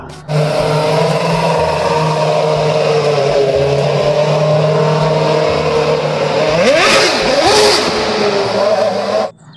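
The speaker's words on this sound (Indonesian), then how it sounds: "Yang ini ada mobil balap F1 ya" A toy F1 race car plays an electronic engine sound, a loud steady droning rev that swoops up and down in pitch near the end before cutting off abruptly.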